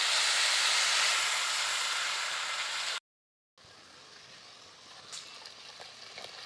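Water poured into hot frying capsicum masala in a pan sets off a loud, broad hiss of steam that fades over a few seconds, then a quieter bubbling simmer after a short gap.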